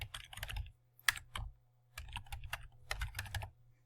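Fingers type a name on a computer keyboard in quick bursts of clicking keystrokes with short pauses between them, close and clear with no talking.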